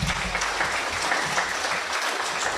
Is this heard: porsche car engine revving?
no